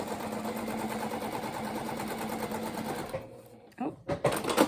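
A home sewing machine stitches layered fabric for reusable napkins, a loud steady mechanical whir with rapid needle rhythm that stops after about three seconds, followed by a few soft handling thumps.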